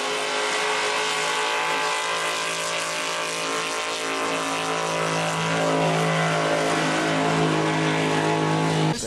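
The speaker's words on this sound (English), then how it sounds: "This looks like one huge 8-cylinder engine. It's 600 inches, 600 cubic inches." A Pro Mod drag race car with a huge 600 cubic inch V8 roars loudly and continuously, a harsh, heavily harmonic engine drone that stays close and intense, swelling slightly toward the end.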